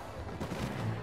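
Dense blaster fire in a Star Wars survival video game, a brief close burst of overlapping shots with a rumbling, booming tail.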